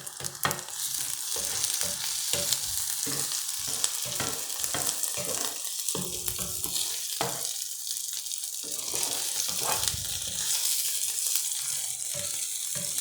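Gnocchi browning in a frying pan for a cheddar and bacon dish, a continuous hissing sizzle broken by repeated dull scraping stirs, close and fairly quiet, with no talk.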